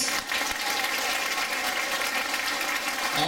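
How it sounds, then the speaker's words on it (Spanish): Applause fills the hall at a 2013 nursing graduation ceremony in Ica, Peru. It is a soft, continuous wash of many hands clapping, steady and somewhat distant throughout. "Venga el aplauso para ellos."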